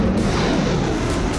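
A Burkan missile explosion sound effect, a dense, loud, rumbling blast that fills the whole moment with sustained roaring noise, close and heavy, with no voices over it.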